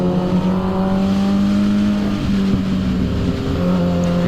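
A 2006 Suzuki GSX-R 750 motorcycle on a test ride on a hot, dry day, its engine droning steadily and loudly throughout with slight shifts in pitch, close by and with no talk.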